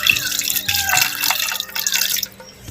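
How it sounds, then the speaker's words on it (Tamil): Water, about 200 ml, being poured onto beef pieces in a pressure cooker, giving a close, continuous splashing and trickling pour for nearly the whole stretch, easing off at the end with no talk over it. "மாட்டு இறைச்சி நல்லா வேகிறதுக்கு தண்ணி 200 மில்லி சேர்த்துக்குவோம்."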